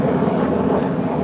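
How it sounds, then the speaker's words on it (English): Helicopter flying overhead above a Lincoln Park street in Chicago, a steady loud broadband rotor and engine roar that holds for a second or so with no voices. "We got a helicopter overhead."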